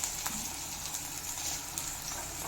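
Papad frying in plenty of hot oil gives a steady, even sizzling hiss that stays at a moderate level with no pauses or voices.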